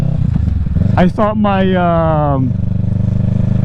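A 2023 Kawasaki Ninja 650 fitted with a Yoshimura Alpha exhaust revs hard and very loud up close, one sharp rising and falling rev over a steady idle, while a rider talks over it.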